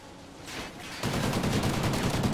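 A Ripper gun fires in a video game, a steady stream of rapid automatic shots that kicks in and continues loud to the end, after a quieter lead-in.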